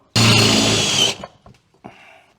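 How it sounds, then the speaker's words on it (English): A loud, steady whir of a power drill boring a hole in a metal bracket for about a second, then a few small clicks and a softer short buzz. "we're gonna drill a hole in this bracket."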